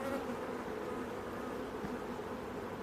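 Honeybees buzz in a dense, continuous drone during an inspection of a WBC beehive, close and fairly quiet, with no talk.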